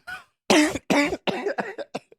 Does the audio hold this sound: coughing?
yes